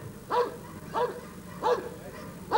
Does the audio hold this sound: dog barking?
yes